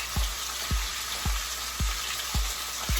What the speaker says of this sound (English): both of them should be seared on that one side